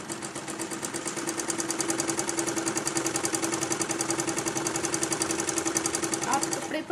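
Sewing machine stitching the bottom hem of a lined kurti, a steady, rapid mechanical whir with a close, even rhythm that runs unbroken for about seven seconds.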